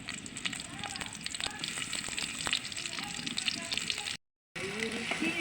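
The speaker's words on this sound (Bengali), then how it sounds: "পাতিলের ভিতরে এখন তেল দিয়ে দেবো, পেঁয়াজ দিয়ে দিলাম," Onions frying in hot oil inside a pot for a rohu fish curry: a steady close sizzle and crackle throughout, with a brief dropout near the end and some faint background voice.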